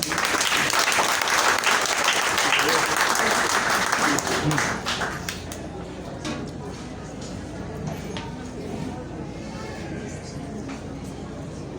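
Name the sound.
audience applause for a speaker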